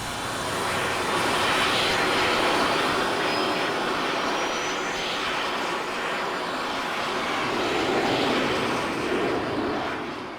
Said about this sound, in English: Taking a jet off when there isn't a runway.